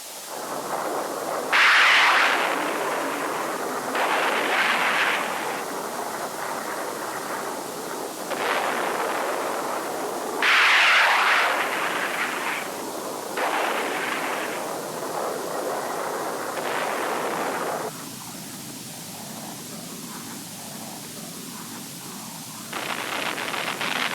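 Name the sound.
tactical airstrikes and gunfire in Vietnam War footage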